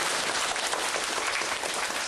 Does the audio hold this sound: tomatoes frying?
no